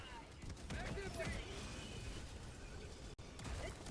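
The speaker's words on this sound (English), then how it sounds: "I just threw a grenade on myself" A grenade detonates on the player's own character in a first-person shooter game, a loud burst of blast and gunfire-like crackle sustained over several seconds amid busy game noise, with a brief dropout near the end.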